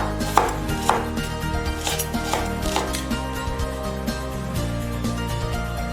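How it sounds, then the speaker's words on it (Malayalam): Knife chopping spring onions while making Thai fish cakes, a run of sharp, close taps on a cutting board with a few louder strikes near the start, over a steady background hum. "ഇനി നമുക്ക് 2 സ്പ്രിംഗ് ഒനിയൻ ചെറുതായിട്ട് കട്ട് ചെയ്യാം."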